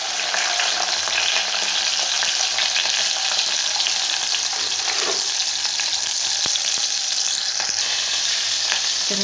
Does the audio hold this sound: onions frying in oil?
yes